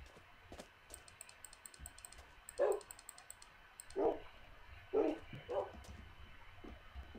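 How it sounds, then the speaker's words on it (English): Wolves in the Minecraft video game give several short barks spaced a second or so apart, over quiet, rapid mouse clicking as the player right-clicks to tame them. "So I'm gonna tame a couple of these wolves."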